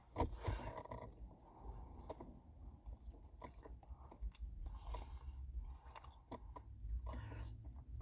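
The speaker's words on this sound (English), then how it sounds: "Gotta make sure I chew with my mouth closed." Food being chewed with the mouth closed, soft close-up mouth noises and faint crunches repeating irregularly over a low, steady background rumble, fairly quiet throughout.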